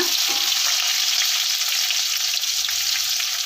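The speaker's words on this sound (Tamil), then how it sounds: "இப்போ நல்லா வதக்கி விட்டுறலாம்" Two large chopped onions sauté in a pan with a bright, steady sizzle and a few faint stirring scrapes, close and continuous with no talking.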